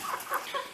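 A broiler breeder rooster in a cage gives a few short, soft clucks, close by and quiet, over a faint background.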